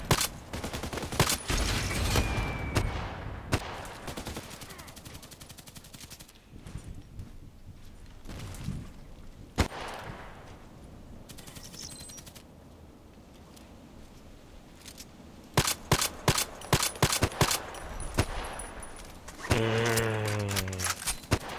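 Video game gunfire from a sniper-style shooter: scattered single shots and short bursts, loud sharp cracks that cluster densely near the end, set against quieter game ambience.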